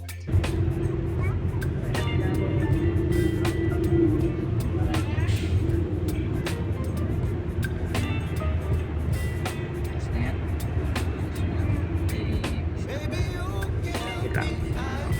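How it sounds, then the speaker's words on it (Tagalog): Dense road traffic rumbles throughout near a viaduct in Pikutan, Lipa, Philippines, engines idling and moving with scattered clicks and clatter, while voices murmur underneath. "Talagang heavy traffic nga naman talaga dito sa Pikutan."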